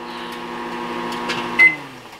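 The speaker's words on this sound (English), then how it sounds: "It's already making some strange noises and we're barely 45 seconds in." A microwave oven heating Egglettes egg cookers hums steadily, and a brief sharp tone sounds near the end as the appliance starts making strange noises.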